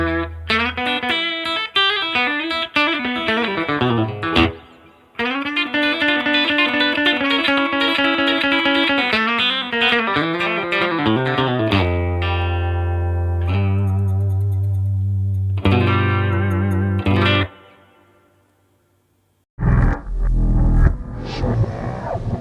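Electric guitar on its bridge pickup through an Almach amp, played alone: biting, twangy sustained notes and chords with slides and bends, a brief silent gap near the end before a low rumbling chord returns.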